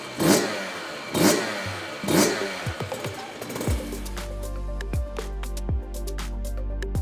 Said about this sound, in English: run the motorcycle for a few minutes and check for any leaks